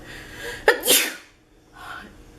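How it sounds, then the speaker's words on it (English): A single loud sneeze bursts out close by, followed by a brief sniff, with quiet room tone around it. "I'm gonna sneeze."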